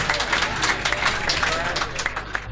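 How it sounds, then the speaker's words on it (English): A live music crowd applauds a honeymooning couple, the Andrews, with dense clapping from many hands that holds steady and fairly loud throughout, a few sharper claps standing out. "Let's have a nice round of applause for the Andrews over here."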